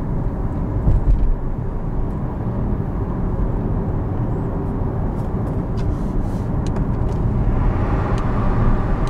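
A Porsche Taycan Turbo S drives at night in the rain. Steady broadband wind and tire roar fills the cabin with a low rumble and no engine note.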